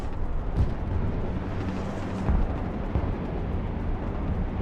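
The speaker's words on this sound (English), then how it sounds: "Finally some good hits with artillery." Artillery explodes in an RTS battle, a dense continuous rumble of booms with a few stronger thuds rising out of it, loud and heavy throughout.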